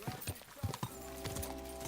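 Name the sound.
horse in video game Kingdom Come: Deliverance 2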